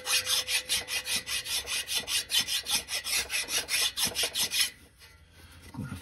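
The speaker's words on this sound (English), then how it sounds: "I'm gonna file that while I'm doing that." A hand file rasps in steady, rhythmic back-and-forth strokes on a 5/8-inch dowel pin in a Chevy bell housing, worked inside the car; close and fairly loud, about a dozen strokes, then stopping near the end.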